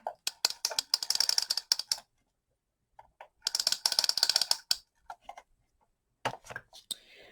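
A handheld tape runner clicks out adhesive tape in quick rattling bursts for crafting a Christmas card, two long ratcheting runs with short pauses and a few scattered clicks, close and fairly quiet.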